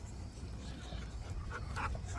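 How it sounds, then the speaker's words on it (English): An American Bully XL dog whimpers and whines continuously and up close over a loud, rumbling background. "American Bully. He's XL too."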